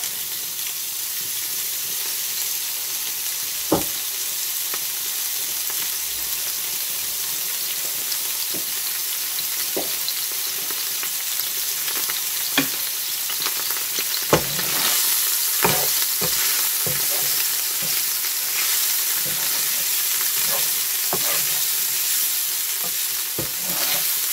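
Shallots frying in a pan, a steady close sizzle and crackle running throughout, with occasional faint clicks and taps of a utensil, and no talk.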